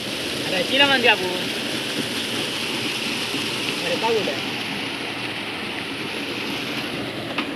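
Water flowing steadily at a stream where crab traps are being set, a continuous close rushing under a man's brief speech near the start and middle.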